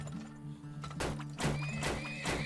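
Horses neigh and whinny in the oil-drilling video game Turmoil, several short rising calls with hoof clip-clops, fairly faint and close over a soft game background.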